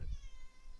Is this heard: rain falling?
no